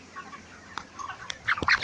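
Thirty-day-old broiler chickens on a farm give a few short, soft clucks and rustles close by, growing slightly louder toward the end, with no talking.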